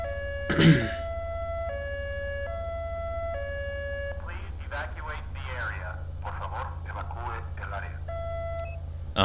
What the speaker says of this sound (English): The high-low tone, which plays like an evacuation thing.